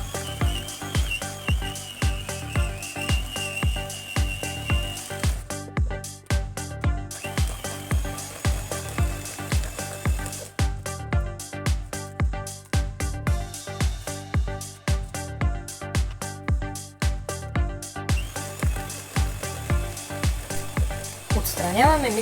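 An electric hand mixer beats cupcake batter with flour, baking powder, fresh milk and vanilla, a loud steady whirring with rhythmic pulses as the beaters circle the bowl.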